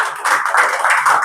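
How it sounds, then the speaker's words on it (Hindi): An audience gives a short burst of clapping, close and fairly loud. The claps come quickly and blend into a dense, steady patter, with no voices over them. "So खुद के लिए एक बार तालियां बजा लो फिर।"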